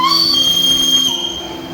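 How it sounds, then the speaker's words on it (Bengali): The Darjeeling heritage toy train runs along its hill track, giving a short, close rumble of the rail cars with a thin, steady high squeal from the wheels. "দেখা হয়ে গেল সেই ঐতিহ্যবাহী টয় ট্রেনের সঙ্গে।"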